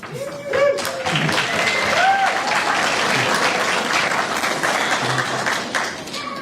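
Audience at a Huskies Sport Hall of Fame induction ceremony breaks into sustained applause and cheering, a dense wash of clapping with a few whoops rising over it, holding steady for several seconds before easing slightly.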